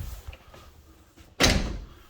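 A commercial door fitted with a Kaba Simplex 7000 series lock swings open: after near quiet, one loud broadband rattling burst begins, then fades slightly over the following moments.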